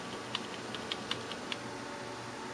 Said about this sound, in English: Start pressing, like, Delete on your keyboard.